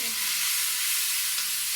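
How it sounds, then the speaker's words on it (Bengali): Ground spice paste of onion and cumin, poured into a pan beside fried cheese, gives a steady, bright, hissing sizzle that carries on evenly throughout, close up with no talk. "আমি এখন এখানে সব বাটা মশলা দিয়ে দিচ্ছি আর বাটা মশলা দিয়ে কিছুক্ষণ কষিয়ে নেব"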